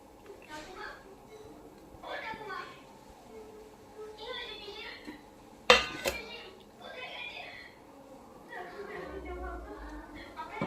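Someone eats a meal of rice, egg curry, moong dal and mashed potato, with close plate and cutlery clinks and one loud clatter midway, while voices talk intermittently.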